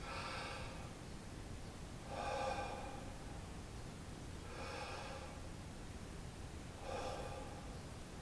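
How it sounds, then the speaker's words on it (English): Four slow, evenly spaced breaths blown into a phone microphone for a breath-measuring app, each a soft rushing puff over a quiet, hissy background. "I'm going to try my breath again."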